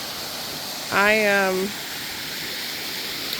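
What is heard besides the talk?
waterfall at Ashmore Heritage Preserve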